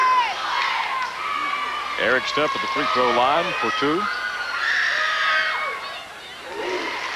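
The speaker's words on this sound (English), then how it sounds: "Good crowd on hand tonight for the championship game." A crowd fills the gym at a 1996–97 high school basketball championship game between PHS and Pikeville, a continuous roar of cheering and shouting under a commentator's steady play-by-play.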